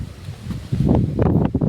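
Strong wind gusts across a rooftop terrace and buffets the microphone with a low, rushing roar that swells louder partway through.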